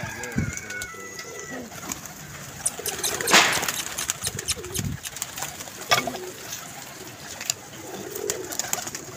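Pigeons coo intermittently close by amid the bustle of a loft where birds are being caught and packed, with flutters and handling noises and a few sharp bursts, under occasional background voices.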